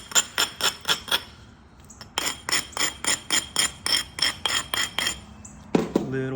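Georgia jasper blade being flint knapped and thinned, a brisk series of sharp stony clicks and taps in quick rhythmic bursts, close and clear, with a short pause and a final ringing strike.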